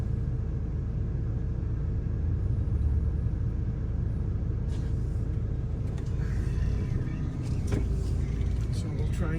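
A stone crusher gives off a deep, continuous rumble that sits low and steady under heavy background noise. Some brief clatter and a vehicle pass come in near the end.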